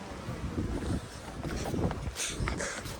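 Gusty wind buffeting the microphone in low rumbling bursts, rising and falling over a few seconds, with faint higher hiss, in foggy weather at Mallalli Falls.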